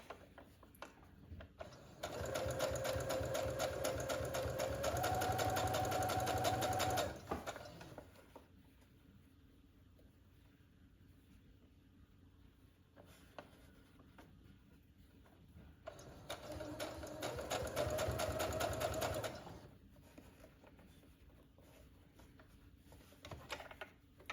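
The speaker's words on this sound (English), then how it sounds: "So while I'm sewing this placket, I'm making sure I don't catch the underside or it will be sewn shut." A sewing machine top-stitches the placket of an Oxford button-up shirt in two steady whirring runs of rapid stitching, each about five seconds long, separated by a quieter pause.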